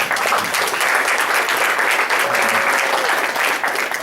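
An audience at a historical society's annual meeting gives sustained, dense applause, a steady wash of many hands clapping at once.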